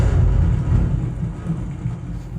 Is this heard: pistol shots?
no